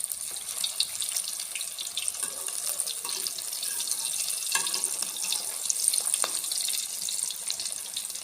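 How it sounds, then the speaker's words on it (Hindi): Chicken koftas fry in hot ghee, giving a continuous bright sizzle and hiss with scattered small crackles and pops. The sound is steady and close throughout, with no one speaking. "ये देखें, घी हमारा गर्म हो गया। अब हम इसमें एक एक करके कोफ्ते डाल देंगे"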